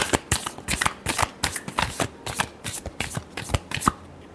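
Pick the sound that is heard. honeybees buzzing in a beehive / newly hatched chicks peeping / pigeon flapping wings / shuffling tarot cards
shuffling tarot cards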